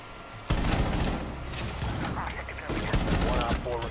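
Gunfire in Rainbow Six Siege sounds as loud, rapid bursts of rattling shots that start abruptly and continue with short pauses, heard up close, with some game noise mixed in.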